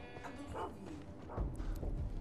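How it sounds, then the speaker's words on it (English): Dogs barking at an enemy outpost in the Far Cry 3 video game, a few quiet, distant barks and yips set against faint background game ambience. "Oh, they got dogs."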